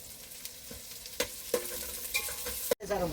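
Chicken curry sizzles in a pot while a spoon stirs it, with a few scraping clicks against the metal.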